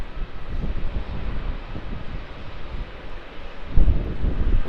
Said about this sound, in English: there's the Fiji Airways A330-200 landing on runway 16